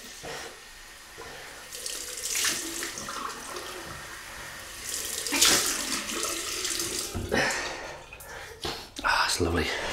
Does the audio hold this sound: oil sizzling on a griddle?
no